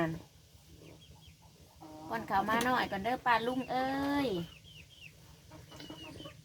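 Chickens cluck and squawk nearby in a short burst of calls, while a person speaks over and around them.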